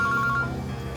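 A mobile phone rings nearby in short, bright warbling tones that repeat rapidly for about half a second and then cut off, over a steady low background hum.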